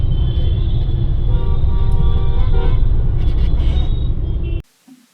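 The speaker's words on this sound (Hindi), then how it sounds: "हम पहली बार यहाँ पे ना ट्रैफिक में थोड़ा सा फंसे हैं" Road traffic in a brief jam, heard from inside a vehicle: a steady loud low engine and road rumble with faint horn-like tones, cutting off abruptly near the end.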